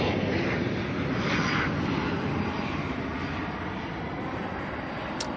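An ATR turboprop airliner arriving at Auckland Airport from Blenheim, a steady broad engine roar and propeller drone holding loud and close throughout with no voices.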